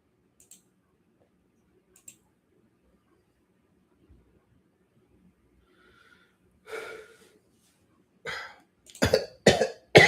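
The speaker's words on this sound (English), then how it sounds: "I was really trying not to cough today" Mostly quiet room with a few tiny clicks, then a run of harsh coughs growing louder near the end, close by.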